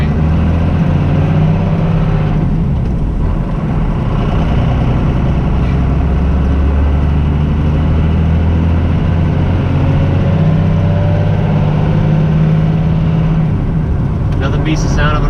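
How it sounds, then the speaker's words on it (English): An old Dodge truck drives along with its engine rumbling loud and steady up close, a deep continuous drone with slight shifts in pitch under the cab noise. "Nothing beats the sound of an old Dodge, guys."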